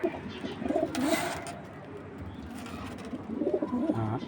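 Mosal breed pigeons coo in soft, throaty bursts at close range, two clusters of cooing separated by a brief lull, with faint fluttering and background rustle.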